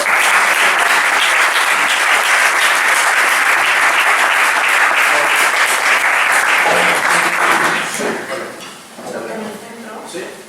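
An audience at the inaugural event of an Aragonese psychopedagogy association applauds to welcome a conference speaker, with loud, dense, steady clapping for about eight seconds that then dies down as murmurs and a voice follow.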